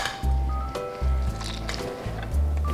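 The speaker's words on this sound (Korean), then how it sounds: "파를 요렇게 된 거를 물기를 꼭 짜가지고 또 여기다가 도로 담아 놓겠습니다" Blanched green onions are wrung out by hand in a kitchen while making yukgaejang, giving close, wet squishing squeezes in four quick pulses with soft dripping between.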